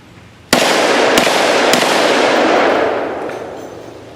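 A .357 Magnum 1911 pistol fires at steel targets outdoors: one sharp, very loud report followed by a long rolling echo that slowly fades.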